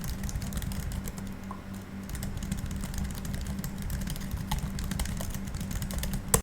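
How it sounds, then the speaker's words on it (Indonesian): Quick, continuous typing on the Magic Keyboard of a MacBook Air M1 makes a soft, close, irregular patter of key clicks that never stops for the whole stretch. "seperti ini typing testnya"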